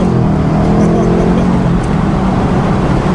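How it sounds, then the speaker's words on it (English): Chevrolet Camaro ZL1 V8 engine heard from inside the car, a loud, sustained, throaty drone as it revs hard toward redline, holding steady throughout. "But you see how it redlined?"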